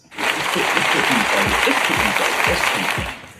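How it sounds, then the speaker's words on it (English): A round of applause, loud and continuous for about three seconds, with dense clapping and a low thumping underneath. "Did somebody say round of applause?"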